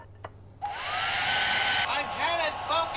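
A hair dryer blows steadily at close range, aimed at a raw steak to try to cook it, with a continuous loud whooshing roar that starts abruptly after a brief click and then holds, its pitch wavering slightly.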